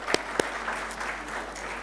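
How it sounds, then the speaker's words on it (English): Applause from the audience at the NISAA Business Forum, a short burst of crowd clapping with a couple of sharp nearby claps standing out at the start. "So can we have a huge round of applause for Ms."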